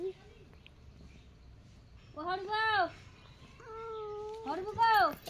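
A cat meows several times up close, with drawn-out, wavering cries, the last ones loud and insistent.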